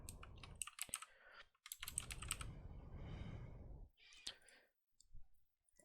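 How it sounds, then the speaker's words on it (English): Quiet keystrokes on a computer keyboard come in quick clattering bursts separated by short pauses, with a longer sustained stretch of typing in the middle, close and alone with no voices. "all you have to do is actually type in your location"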